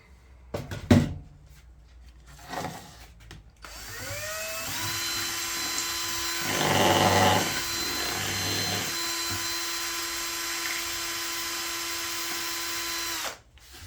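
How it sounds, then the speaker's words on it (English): A power drill whines up to a steady high pitch and bores into wood for several seconds while making epoxy resin river coasters, with a louder grinding stretch midway, preceded by a few clunks. "the good old drill"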